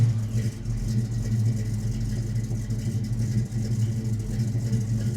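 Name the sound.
1951 Chevrolet 3100 pickup truck engine starting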